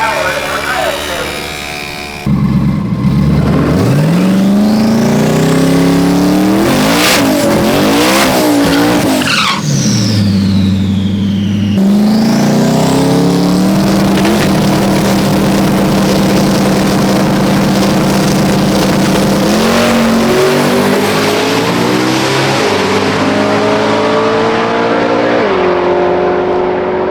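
A drag race car makes a full pass, engine roaring at close range with sharp revving and gear changes, rising and falling pitch sweeps, then a long sustained high-power pull that fades slightly at the end.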